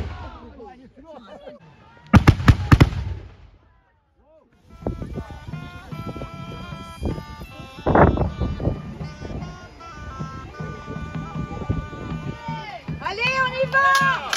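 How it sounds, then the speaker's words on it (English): A cannon fired at a medieval fair gives one loud booming blast with a rumbling tail, followed by crowd noise and nearby talking. "this bloke over here is getting ready to fire the cannon."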